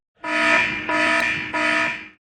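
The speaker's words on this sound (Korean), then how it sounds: "침입 경보가 울리고" An intrusion alarm in a bunker blares in three long, loud electronic tones, each a harsh buzzing blast with a short break between them.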